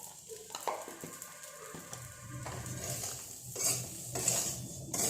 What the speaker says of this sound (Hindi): और इसको अच्छी तरीके से मिक्स कर देंगे।